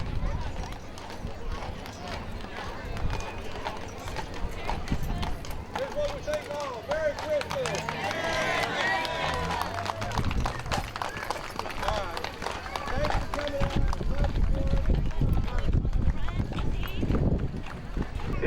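A pair of carriage horses clopping along while pulling a high wheel wagon in a Christmas parade, steady hoofbeats under a crowd murmur and a loud announcer talking throughout.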